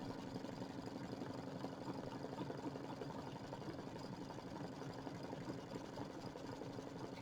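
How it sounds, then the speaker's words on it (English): An embroidery machine runs steadily through a heavy triple stitch, its needle mechanism making a continuous close, fast rhythmic chatter with no voices. "this is a pretty heavy little triple stitch that's going to go around there"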